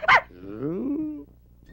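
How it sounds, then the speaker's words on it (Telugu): A dog in a comedy scene gives a single sharp bark, then a drawn-out whining growl that slides in pitch before fading, heard close and alone without talk. "కుక్క ఏంట్రా గోడెక్కింది?"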